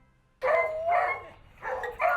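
A beagle, an airport detection dog, barks and bays in four drawn-out, close, loud howling barks with short pauses between them.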